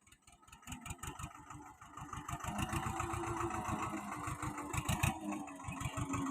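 A soybean seeding machine's small engine runs steadily after starting, putting out a rapid, even chugging pulse with a busy mechanical rattle over it at moderate loudness, with no voices.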